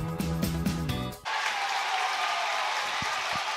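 Crowd on its feet cheering inside a high school gym during a girls' basketball game, a broad sustained roar that bursts in after music cuts off, with a couple of thuds.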